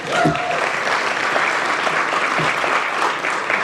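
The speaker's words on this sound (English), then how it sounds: "Yes, you can give that a round of applause." Audience applause at a Detroit breakfast club event, a dense, steady burst of clapping from a large crowd filling the room for several seconds at close range, with a brief voice sound near the start.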